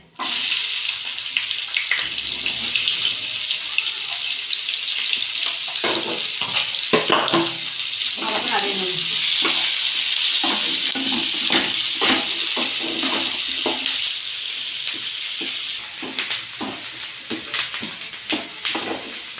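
Chopped onions frying with black cumin in oil for a Bengali rohu fish kalia, a steady loud sizzle with intermittent clicks and scraping stirs nearby.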